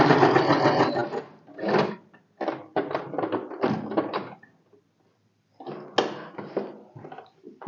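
A sewing machine stitches the lining into a blouse in a run of loud, rapid mechanical bursts. The bursts are separated by short pauses, with a longer silent gap midway.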